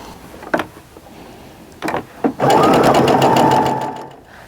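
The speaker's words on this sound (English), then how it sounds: "And I'll sew down the end" A sewing machine stitches quilt rows together, sewing down the end of a seam: a couple of short taps first, then one sustained, steady whirring run of about two seconds close by, with no talking.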